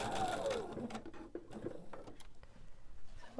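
A sewing machine stitches pieces of fabric together for a table runner, its steady motor whir running continuously and close by, with a few soft clicks and handling sounds mixed in.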